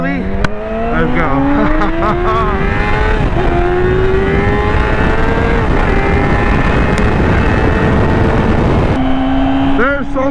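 Yamaha R6 sport bike engine screaming loud and close as it revs hard through a wheelie, pitch climbing and holding with brief shifts, a sharp burst and rev again near the end, with voices under the roar.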